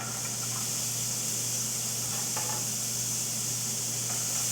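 Chopped onions sizzling in a pan with browned beef, a steady, close hiss of frying that runs without a break, with a few faint clicks of stirring.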